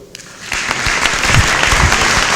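Audience applause at a national gathering of exorcists in Mexico, starting thin and swelling into steady, dense clapping from a sizable crowd that holds loud through the end.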